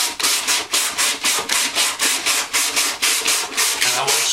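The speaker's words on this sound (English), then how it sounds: "And I will smother this ebony sanding dust all over." An ebony guitar fretboard on a parlor guitar is sanded by hand in steady back-and-forth strokes, a close, rhythmic rasping scrub repeating about three times per second with no speech.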